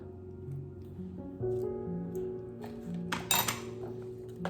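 A spoon clinks against a bowl or jar while chia seeds are scooped into an overnight oats mixture, with light metallic taps and ringing over quiet kitchen ambience and a brighter clatter toward the end.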